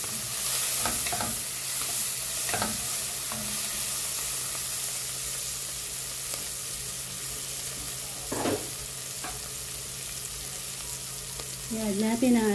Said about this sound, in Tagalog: Igisa natin ang ating onion, garlic at kamatis.